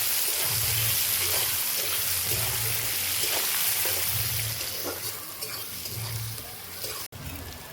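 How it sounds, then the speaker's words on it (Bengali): Onions frying in a pan for mutton kosha make a constant bright sizzle with soft stirring scrapes, over a low rhythmic hum in the background, ending in a brief sharp click. "পেঁয়াজটা একটু ভেজে নেবো।"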